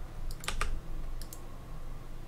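Computer keyboard typing in short bursts of clicky keystrokes, clustered early then a couple more later, fairly close, during a StarCraft community MSL semifinal event, with no speech.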